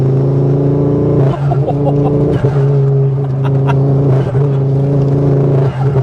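A Mk2 Ford Focus RS engine hums loudly and steadily from inside the cabin as it accelerates uphill, with a low droning tone and slight shifts in pitch.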